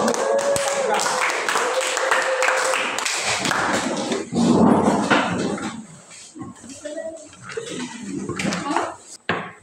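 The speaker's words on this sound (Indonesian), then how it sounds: "Mari kita berikan aplaus." Classmates in a classroom give a round of applause for group 4 of a geography lesson on lithosphere dynamics, a dense burst of clapping at the start that thins into scattered claps, taps and murmuring voices.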